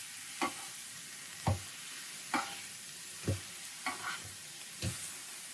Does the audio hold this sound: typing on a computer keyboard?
no